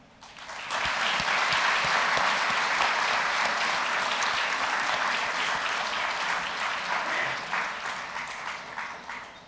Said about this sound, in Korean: 새롭게 탄생한 가정 인사드릴 때에 큰 화답의 박수를 부탁드립니다